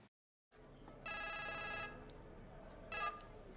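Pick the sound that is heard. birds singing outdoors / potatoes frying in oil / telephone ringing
telephone ringing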